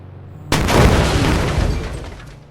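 Video game gunfire and explosions: a single sudden heavy boom bursts in after a short quiet lead-in, then rumbles and crackles loudly before slowly decaying, with no talking over it.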